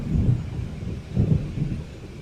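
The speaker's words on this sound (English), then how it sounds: "It seems there's a storm coming." Low rumbling thunder from an approaching storm in Alan Wake Remastered, two swells of deep rolling booms over a steady windy hiss, no voices.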